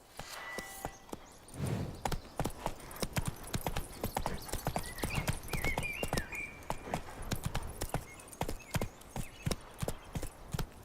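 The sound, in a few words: horse hooves trotting in The Witcher 3 video game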